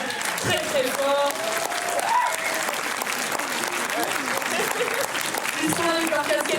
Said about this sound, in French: On peut applaudir très très fort.